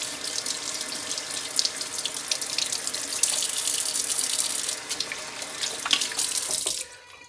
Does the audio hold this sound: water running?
yes